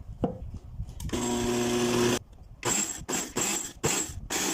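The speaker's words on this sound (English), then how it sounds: "I use the middle button for blending ice. That's why it's being like this, because the corn is hard." A kitchen blender on its ice setting grinds hard popcorn kernels with ginger and water in a covered jar, running in two loud, rough whirring bursts separated by short pauses.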